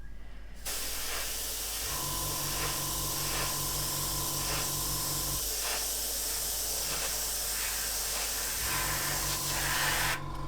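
Lacquer paint sprayed in a steady hiss as a fourth coat goes on for full coverage, running close and continuous with a low compressor-like hum cycling underneath.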